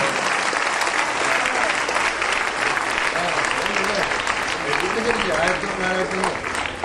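An audience claps steadily for a prize winner at a church unit award ceremony, dense continuous applause filling the room with a voice speaking over it.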